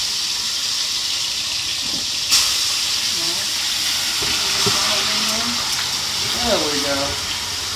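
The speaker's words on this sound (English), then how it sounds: "You'll hear a loud sizzle." Chicken pieces hitting a hot pan for a chicken Alfredo, giving a steady broadband hiss of sizzling that runs throughout, with a sharper burst near the start and a voice talking over it.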